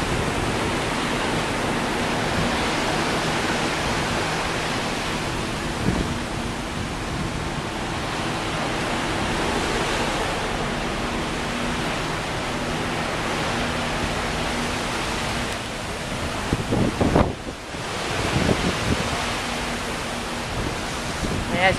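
Steady, broad rushing noise of strong wind and ocean waves in Antarctica's Lemaire Channel fills the scene without a break, with a brief louder gust or buffet near the end.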